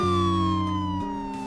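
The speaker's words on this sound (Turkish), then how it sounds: "sirenleri kapatsam daha iyi olacak." A Ford police car siren in the Roblox video game wails loudly with a steady electronic tone that drops and shifts pitch partway through, close and alone without talk.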